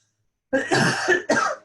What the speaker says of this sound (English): Excuse my coughing, I have allergies.